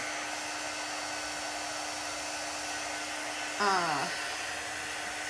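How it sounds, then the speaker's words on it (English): A hair dryer blows with a steady whirring drone, then briefly shifts pitch and surges louder before settling back. "I could get a hair dryer, which puts a little more power and it dries quicker"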